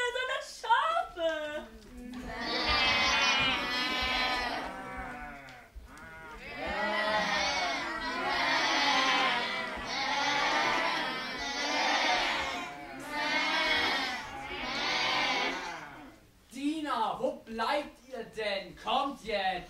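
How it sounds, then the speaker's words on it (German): Sheep bleat again and again in long wavering calls, some overlapping, with pauses between bursts and people talking at the start and end. "Aber das sind doch keine Fische mehr, sondern Schafe."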